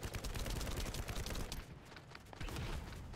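Dense gunfire in The First Descendant shooter game, a steady rapid stream of overlapping shots and impacts at moderate loudness, continuous throughout with a brief lull near the middle.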